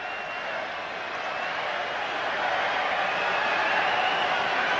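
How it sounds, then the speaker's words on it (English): Dense crowd noise fills a swimming stadium at the Olympic 100m backstroke final, a steady, loud roar that swells slightly just before the race start, with no distinct voices standing out. "Crowd making a lot of noise"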